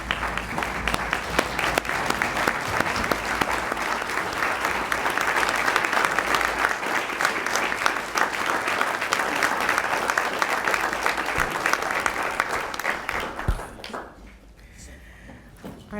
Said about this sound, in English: Can everyone please stand up and give her a round of applause?